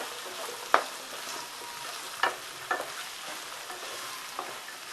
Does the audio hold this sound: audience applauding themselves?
no